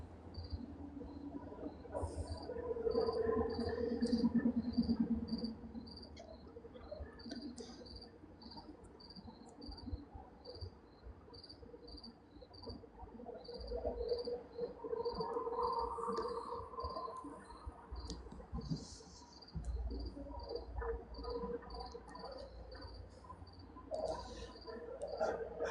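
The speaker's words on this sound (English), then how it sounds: "This is the first night I've heard the crickets." Crickets chirp outdoors at night after days of rain, a faint, steady pulsing trill running continuously at a distance with a low background hum and no talk.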